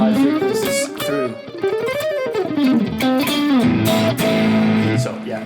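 Electric guitar played through a MESA Transatlantic TA-15 amp with a tone knob turned fully up, a sustained, dense and dull chord-and-note phrase that plays continuously at steady loudness with no talking.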